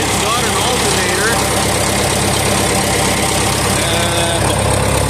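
A John Deere 3010 diesel tractor idles after a cold start, a loud, steady, close rumble with a faint knocking texture that runs unbroken throughout.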